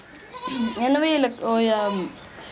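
A goat lets out two close, wavering bleats in quick succession, clear and near against a quiet background.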